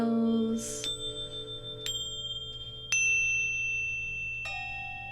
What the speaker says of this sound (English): Plus there's some chimes and bells.